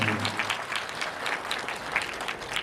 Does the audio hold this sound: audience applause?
yes